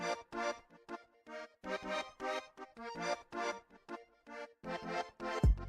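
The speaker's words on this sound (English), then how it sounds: "I did some other sections of the Koriana but with a lower octave." A koriana melody shifted down an octave in FL Studio plays choppy phrases of plucked tonal notes in steady bursts, loud and without talk, ending with a brief low thump.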